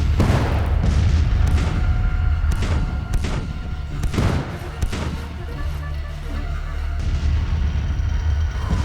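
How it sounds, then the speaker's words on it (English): Artillery booms in a Grand Tactician Civil War battle, with Confederate guns opening fire: repeated heavy thuds and blasts at irregular intervals over a continuous low rumble of battle. "now we've got some Confederate artillery that's opening up on us"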